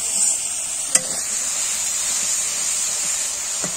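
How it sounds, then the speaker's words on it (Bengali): Masala sautéing and frying in a pan during a group cooking session: a steady, bright sizzle throughout, with a sharp scrape or tap near one second and another soft knock toward the end. "এখন মশলাটা কষানি হচ্ছে।"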